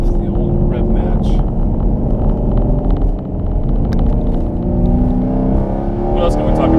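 Supercharged Chevrolet Camaro SS, a Hennessey HPE750, rumbles steadily through a downshift with a rev-matching blip, its loud, close engine drone running under continuous talk.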